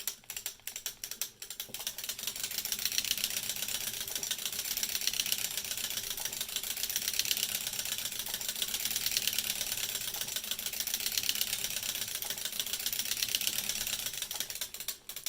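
A circular sock knitting machine with a ribber is cranked round, giving a continuous rapid mechanical clatter of needles and cams in a steady rhythmic pulse, close and fairly loud, with no talking.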